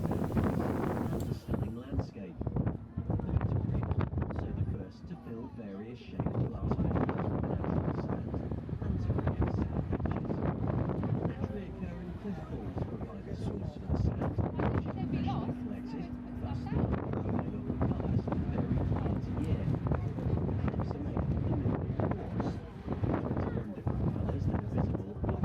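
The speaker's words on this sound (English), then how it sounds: "It was warm even though it was windy." Strong coastal wind at the Needles on the Isle of Wight buffets the microphone in continuous roaring gusts, with a low engine rumble underneath.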